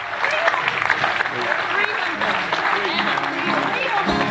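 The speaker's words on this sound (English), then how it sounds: "Give him a big round of applause" A live podcast audience applauds comedian Jarlath Regan, with a dense, even wash of clapping that runs the whole time while a voice talks over it.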